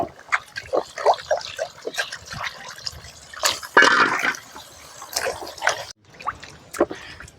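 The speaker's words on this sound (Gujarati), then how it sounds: "આપણા ગાજર હવે 2-3 પાણીયા ઠાવકાથી ધોઈ નાખ્યા" Carrots being rinsed by hand in water in a home kitchen, with intermittent splashing, sloshing and dripping in short irregular bursts at close range.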